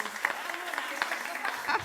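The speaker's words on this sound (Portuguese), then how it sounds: "Uma salva de palmas para a nossa" Audience applause in a classroom lecture, a short burst of light, scattered clapping at moderate volume with speech-like sounds mixed in.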